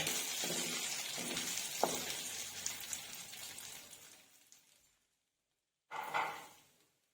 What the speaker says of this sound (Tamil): அந்த மிளகா கடுகு வெந்தயம் எல்லாத்தையும் சேர்த்து நல்லா கலந்து விட்டுருலாம்